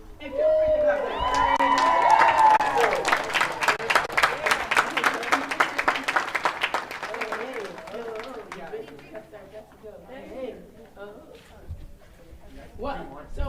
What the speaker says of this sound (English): feel free to clap that